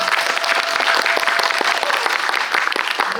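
Loud, close applause from a cinema audience at an opening-weekend film screening with a guest talk, brisk sharp clapping that stays dense and even for the whole stretch.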